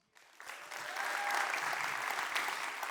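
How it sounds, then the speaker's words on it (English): An audience breaks into applause at a talk, swelling within the first second into a steady, dense clapping that holds to the end. "give them another big round of applause"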